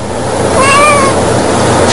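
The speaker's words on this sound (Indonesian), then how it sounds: "kucing imut ini mau mengucapkan kata hai berkali-kali" A cute cat meows a short, sliding call, as if saying hi, over a steady hiss of background noise, with no talk over it.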